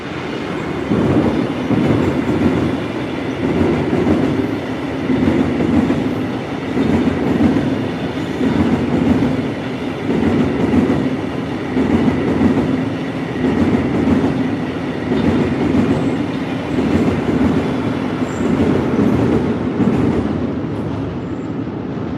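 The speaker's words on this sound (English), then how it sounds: "Train time." A train rumbles steadily past nearby in Stuart, its wheels clattering in a continuous rhythmic clack over the rails, loud and sustained throughout.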